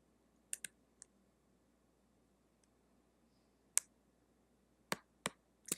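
Scattered sharp mouse clicks come from a Photoshop session while brush strokes are made: a couple of quick pairs, then isolated clicks spread across a quiet background.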